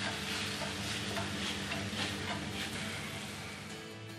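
Prawns sizzle and crackle as they are tossed in a hot pan, a dense frying hiss that fades slightly toward the end.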